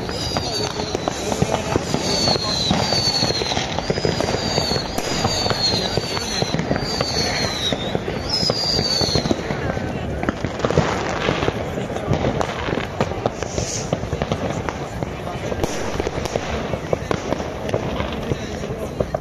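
New Year's fireworks bursting over Munich's Olympic Tower, a dense, continuous barrage of cracks and bangs with whistling rockets rising early on, heard from the crowd with people talking throughout.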